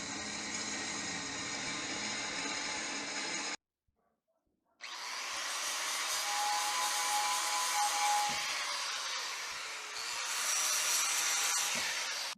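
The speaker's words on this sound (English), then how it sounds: "Ready to drill it in." A power drill bores holes in a seat mounting plate during a seat upgrade in a 1964 panel van, whirring in a long burst, then stopping briefly before a second sustained run.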